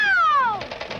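A toy hand grenade lets out a single electronic cat meow, a long falling, mewing cry that ends in a brief rough trail. It is loud and close, with no talk over it.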